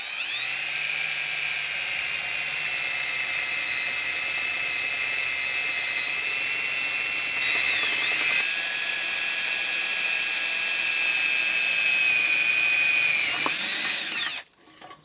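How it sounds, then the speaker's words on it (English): A power drill bores a hole through sheet metal, whining at a high, steady pitch for about fourteen seconds with a slight shift midway, then spinning down and stopping abruptly. "I'm going to drill 2 holes in this. No, wait a minute. 1 hole in this."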